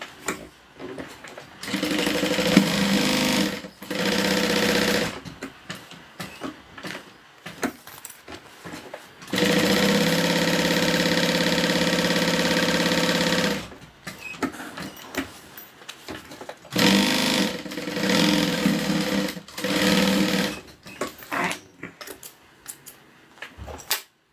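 A sewing machine stitches fabric in several bursts of rapid, even whirring, each lasting a few seconds and separated by quiet pauses, heard up close with no voices.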